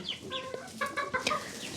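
A chicken makes a few high, squeaky clucks and peeps in quick succession, fairly faint, with no one talking.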